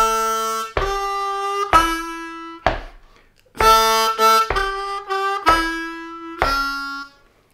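Solo harmonica lick over a 4-chord: a 1/4 blow octave, a 3-draw half step bend and a 2-draw struck on the beat, then the phrase answered again, with crisp attacks, short gaps and close, bright tone.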